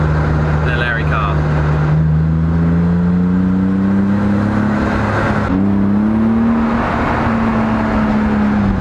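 A car engine hums and rises in pitch as it accelerates, shifting once partway through, loud and close inside the cabin.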